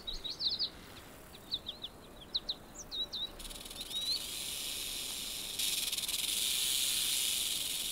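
Birds chirp in scattered bursts before a western diamondback rattlesnake begins rattling: a dry, continuous hissing buzz that holds steady and grows louder near the end.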